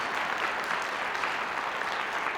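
Audience applause for sponsors and partners at a film awards ceremony: steady, dense clapping from a crowd, moderately loud and continuous, with no voices on top.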